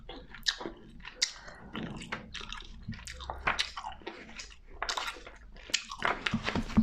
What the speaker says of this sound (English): I'm waiting for the chewing gum to be more soft.